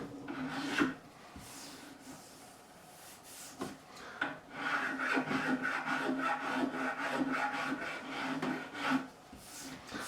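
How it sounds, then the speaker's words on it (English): A file rasps across the wooden heel of a Warwick Corvette Double Buck bass neck, repeated rhythmic strokes close up, with sparse strokes at first that build into a fast steady run. "I'm going to be filing this way down"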